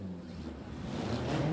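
Formula 1600 race car engines at the Grand Prix de Trois-Rivières rumble low and fairly faint, building slightly as they rev, with no talk over them.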